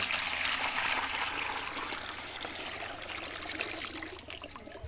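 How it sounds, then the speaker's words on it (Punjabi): Steady rushing gush of about 5 litres of water pouring into a bucket, continuous and fairly loud, easing slightly toward the end. "ਇਹ 5 ਲੀਟਰ ਪਾਣੀ ਪਾ ਦਿੱਤਾ ਗਿਆ ਜੀ ਬਾਲਟੀ ਦੇ ਵਿੱਚ"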